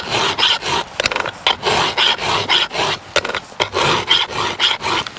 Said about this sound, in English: And keep filing all the way around till you come to the end.